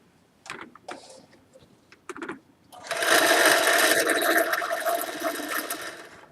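A few soft clicks and handling sounds come first, then a sewing machine winds a bobbin with its foot pedal pressed, giving a steady, close, whirring hum that runs without a break to the end.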